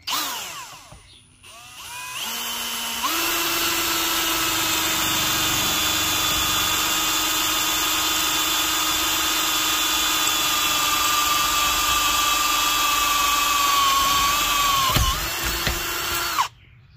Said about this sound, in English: And I'm just going to drill these out.